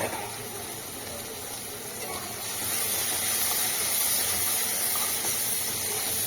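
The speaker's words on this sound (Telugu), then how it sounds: "ఆయిల్ పైకి వచ్చేదాకా వేయించుకోవాలండి బాగా." Ginger-garlic paste and masala fry in oil for a paneer curry, giving a loud, dense hiss that swells slightly partway through.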